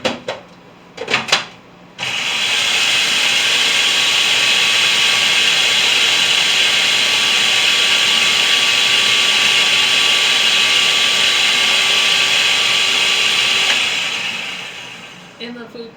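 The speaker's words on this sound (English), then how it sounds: "In the food processor." A food processor chopping crackers roars steadily for about twelve seconds with a high whirring motor tone, preceded by a few short pulses and clicks and then winding down.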